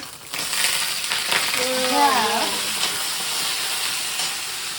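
Pork sautéing in a hot pan, an Arunachal–Nagaland style dish, gives a steady, fairly loud broadband sizzle that runs through the whole clip, with a brief tonal squeak of stirring in the middle and no talking.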